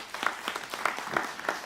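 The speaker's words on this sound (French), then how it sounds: "Donc on va faire une petite acclamation pour eux" Congregation at a Mass in the Chapel of the Apparitions at Fatima gives a brief round of applause, steady but moderately faint and diffuse, as from a crowd in a chapel.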